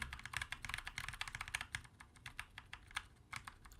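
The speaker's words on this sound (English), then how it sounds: "these Kailh BOX orange, burnt orange switches, which have a similar actuation force by number as the Jade or as the Navies, 75 grams of actuation force, but it still feels different and it sounds different too" Heavy Kailh BOX Burnt Orange switches typed on a GMMK keyboard give a steady run of muted, close clacks at a brisk, slightly uneven pace, with no voices.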